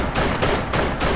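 A Benelli M2 shotgun fires in Fallout 4 with a mod: four loud, rapid blasts about a third of a second apart, close and alone.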